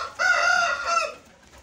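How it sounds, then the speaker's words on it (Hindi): A single loud, drawn-out call from a brooding hen sitting on eggs, close by, lasting about a second before fading out. "मुर्गी बिठाई है अंडों पे"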